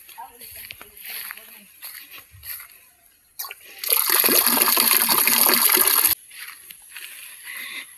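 Gushing water from a stream in the woods bursts in loudly for about two seconds midway, surrounded by quieter stretches with rustling and people talking.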